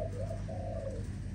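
A young Malaysian spotted dove coos in a soft, low, rolling phrase, close by and steady against a faint background hum.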